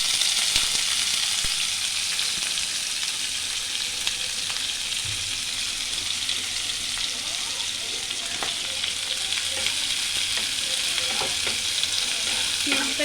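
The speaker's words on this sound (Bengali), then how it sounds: "এই সময় এর মধ্যে দিয়ে দেবো এই পেঁয়াজ কুচি।" Chopped onion fries in a pan over a tempering of cumin and dried chilli, giving a bright, constant hiss of sizzling oil. Faint stirring knocks sound now and then, close and steady throughout, with no talking.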